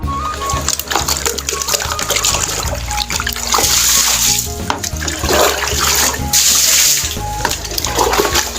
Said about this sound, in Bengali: এখানে আমরা পানি দিয়ে সুন্দর করে ধুয়ে নেব চকচকা।